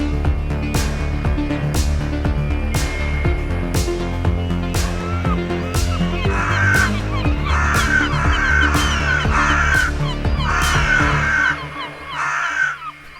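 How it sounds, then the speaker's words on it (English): Crows caw and squawk repeatedly in a loud, busy run of harsh calls over steady background noise, with several evenly spaced sharp cries toward the end. "Get the fuck out of here, birds."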